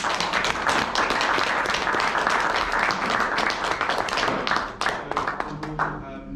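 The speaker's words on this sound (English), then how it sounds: "But yeah, a last round of applause." Loud, dense audience applause at a live talk event, sustained steady clapping from a crowd that begins to thin out toward the end.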